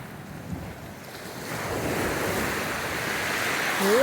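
Ocean waves wash steadily onto the shore as the tide comes in, a broad hiss swelling louder toward the end, with some wind buffeting the microphone.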